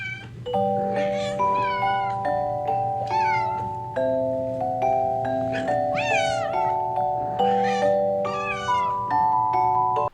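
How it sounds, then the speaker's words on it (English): A cat meows repeatedly in clear, drawn-out calls over a steady low hum and sustained musical tones, the cries rising and falling every second or so throughout. "I like the kitty cat. Meow."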